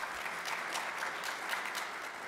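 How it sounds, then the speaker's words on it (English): A community forum audience applauds a speaker with steady, dense clapping that fills the room evenly from start to finish, fairly distant and with no voices over it. "Give Byron a round of applause."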